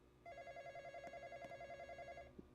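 A telephone rings in a Roblox horror game, a steady warbling electronic trill repeating for about two seconds at moderate level with no talk over it, ending in a faint click.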